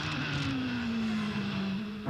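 Nigel Mansell's turbocharged Indy car races on the Surfers Paradise street circuit in 1993, a steady engine drone that sweeps slowly down in pitch as it passes at a moderate distance.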